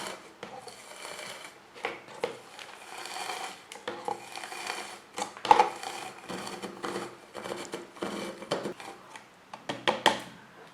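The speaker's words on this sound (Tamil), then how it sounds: "இப்போ பொமக்ரானட் ஆட் பண்ணுறேன். இப்போ இதை அப்படியே அழுத்தி ப்ரெஸ் பண்ணோம்." A manual kitchen juicer gadget presses pomegranate seeds, giving quiet, irregular plastic clicks, creaks and squishing rubs close by, with brief sharper knocks scattered throughout.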